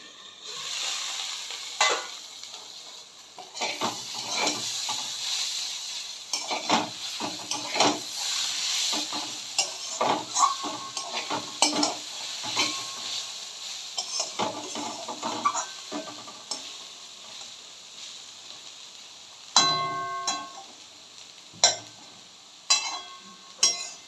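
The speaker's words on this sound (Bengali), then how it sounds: "আমি ক্রমাগত খানিকক্ষণ অন্তর অন্তর ঢাকনাটা খুলে ভালো করে নাড়িয়ে দিচ্ছি" Dry-cooked cauliflower curry stirred in a pan whose lid is lifted now and then, with irregular spatula scrapes and clatters over a low sizzle and a few sharp metallic lid clinks near the end, close by and with no voices.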